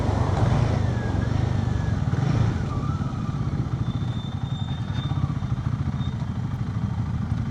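Royal Enfield Guerrilla 450 motorcycle being ridden on a demo day test ride, its engine rumbling steadily up close with wind noise and a few faint clatters, no talk.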